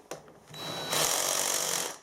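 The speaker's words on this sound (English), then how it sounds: "gently deburr each hole" Holes being deburred with a hand tool, a short scrape followed by a louder sustained grinding whir, close and alone.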